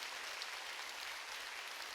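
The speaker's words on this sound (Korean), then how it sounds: "깨달은 사람만 박수를." A church congregation at a Sunday worship service applauds as a steady, faint wash of many hands clapping, continuous and without speech.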